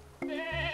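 A goat in the Carto video game gives one short, wavering bleat, close and clear, after a brief tone from the game's music.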